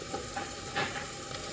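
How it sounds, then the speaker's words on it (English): Crushed garlic is stirred into a pot of vegetable soup, a soft continuous sizzle and swish with a couple of brief scraping strokes. "Stir that all in"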